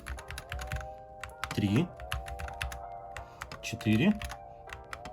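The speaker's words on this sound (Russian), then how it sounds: "Они меняются при помощи нажатия клавиш FN и Enter." Keys on an Akko MonsGeek FUN 60 Pro budget magnetic mechanical keyboard are pressed in short clicky bursts, fairly close, while someone talks steadily over them.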